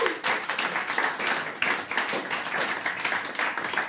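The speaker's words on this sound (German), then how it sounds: "Ein Applaus." Audience applause at a stage show, a lively burst of clapping with irregular swells and a few sharper claps standing out, no speech over it.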